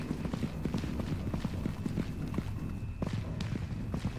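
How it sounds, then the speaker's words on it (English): Footsteps in the video game Content Warning patter in a steady, fairly quick rhythm of soft repeated thuds throughout, close and moderately loud. "Is that our footsteps I'm hearing?"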